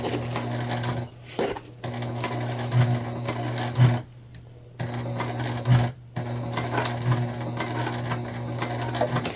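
A sewing machine with a worn needle stitches tote bag panels in several loud, close bursts of rapid chattering, broken by brief pauses and a steady motor hum.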